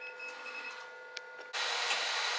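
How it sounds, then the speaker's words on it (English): A 3D printer runs a job tracing the outline of a letter R on its self-levelling bed, giving a steady whirring stepper-motor drone with faint ticks, then a sudden louder broadband rush in the final second. "now it is printing off that outline of that R for me"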